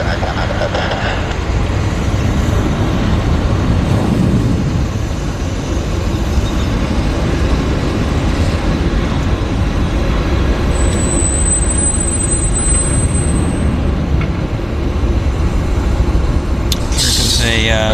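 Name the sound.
CRJ regional jet aircraft at Vancouver airport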